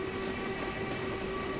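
A steady steam locomotive whistle from a Black 5 in a train simulator game on the Hamilton Branch Line holds one unbroken tone, faint to moderate, over a low running rumble.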